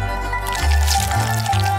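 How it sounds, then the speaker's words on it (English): Melted white and black chocolate poured from a container into a glass in a home kitchen, giving a soft, continuous liquid trickle over a low steady hum, close and moderately loud with no talking. "Now I take out the chocolate and carefully pour it into the glass."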